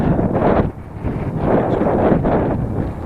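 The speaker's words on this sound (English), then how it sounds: "There's the wind?" Gusting wind buffets the microphone outdoors in pulsing low rumbles, loud and close, with a brief dip partway through and no speech.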